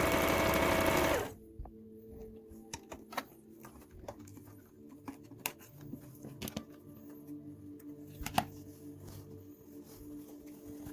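A Singer Touch Tronic 2001 computerized sewing machine stitches steadily after a loud burst of noise at the start, its motor humming with a quick rhythmic needle patter and occasional sharper clicks, close and clear with no talking.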